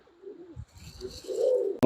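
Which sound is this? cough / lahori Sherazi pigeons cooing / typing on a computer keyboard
lahori Sherazi pigeons cooing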